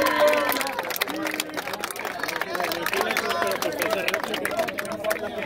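Audience at a rap battle semifinal applauding and cheering, a dense, loud crowd roar with clapping and shouting voices mixed in throughout.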